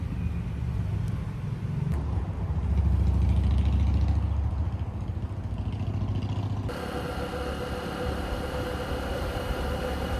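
A Honda XR150L motorcycle engine runs at wide open throttle on a long road ride, giving a steady, continuous drone with no voices. Its tone shifts brightly partway through.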